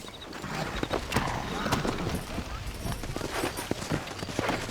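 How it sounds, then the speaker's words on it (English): Horse hooves clip-clop at a brisk, steady gait in the Red Dead Redemption video game, rhythmic thuds repeating over game ambience and background noise. "Hey, there's my war horse."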